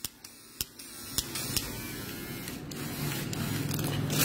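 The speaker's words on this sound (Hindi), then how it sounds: "ट्रिमर" An electric trimmer running steadily, a low buzzing hum with a few faint clicks at the start as it is handled, then a continuous drone that grows slightly louder toward the end, close by.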